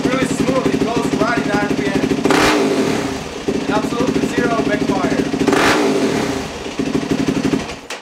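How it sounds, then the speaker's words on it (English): A 4-stroke dirt bike engine with its idle freshly adjusted revs up twice on the throttle and settles back, loud and close, with a steady pulsing idle between the blips and a voice speaking over it. "This is how you should feel and hear your throttle response when everything is adjusted correctly."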